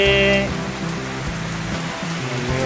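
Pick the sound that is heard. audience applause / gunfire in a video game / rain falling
rain falling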